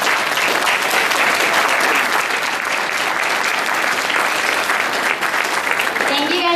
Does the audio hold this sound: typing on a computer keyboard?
no